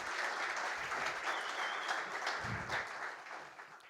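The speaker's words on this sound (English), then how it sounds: "A round of applause to our brand ambassadors" Audience applause at a Christmas-themed launch event, welcoming brand ambassadors to the stage: steady, fairly loud clapping from a crowd that holds for about four seconds and starts to taper at the end.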